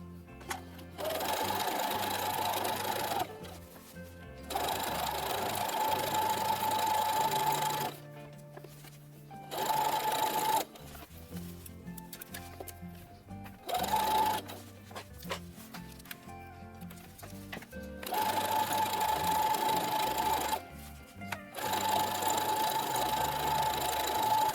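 Sewing machine stitching a seam on a Star Wars jumpsuit, running in several bursts of a few seconds each with rapid mechanical chatter, separated by short pauses and handling noise, close and clear.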